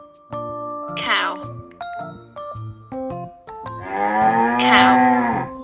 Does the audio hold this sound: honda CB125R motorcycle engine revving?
no